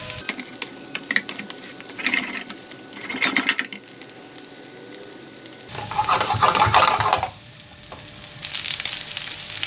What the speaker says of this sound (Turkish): Birkaç dakika patateslerimizi güzelce soteleyelim